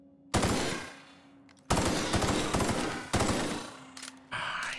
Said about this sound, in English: I hate burst guns, but it's such a good gun